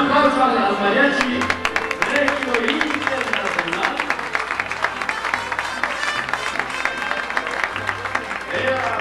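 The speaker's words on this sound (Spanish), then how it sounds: "Un aplauso a las mariachi." Audience applause for a mariachi band at a live performance, broad clapping that fills the whole stretch and mixes with ongoing music and voices.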